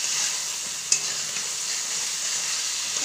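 Fish curry with potatoes sizzles steadily in a pan after water has gone in, a continuous close bubbling hiss with one brief clink near the start and no talking.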